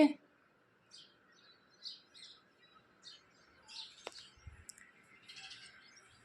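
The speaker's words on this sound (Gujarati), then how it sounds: "પક્ષીને ચકલીને એનું બોલતા હોય એનો અવાજ આવે છે" Sparrows chirp in short, scattered bursts at a distance, faint and intermittent over a quiet village background at sunrise.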